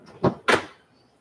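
A desk drawer in a garage workshop is pulled open during a search for a pen, giving two quick close wooden knocks and a short slide, fairly loud and alone.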